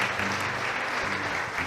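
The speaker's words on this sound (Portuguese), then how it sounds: "Dá uma salva de palmas ao Senhor." Church congregation applause during a Sunday morning service, a steady wash of many hands clapping, even and unbroken, at moderate distance.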